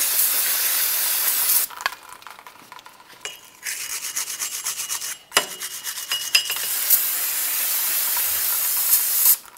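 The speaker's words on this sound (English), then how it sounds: "We'll use some parts cleaner and a wire brush and get this cleaned up." Parts cleaner sprayed on a wheel bearing hub of a 2009-2019 Ford Flex during rear brake work: long loud aerosol hisses broken by a stretch of scrubbing with a wire brush, then more steady spraying.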